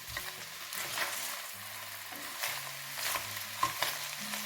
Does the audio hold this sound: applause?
no